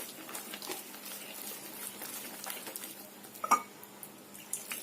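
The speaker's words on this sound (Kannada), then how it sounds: "ಈಗ ಸ್ವಲ್ಪ ನೀರ್ ಹಾಕೊಳ್ಳೋಣ" Water pours and splashes into a bowl of ridge gourd bajji batter in short uneven bursts, with a few soft clinks of utensils close by.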